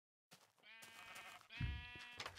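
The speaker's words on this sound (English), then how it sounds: "There's a sheep." Sheep bleating in the Minecraft video game, a pair of wavering, nasal bleats in quick succession, loud and close with no talk.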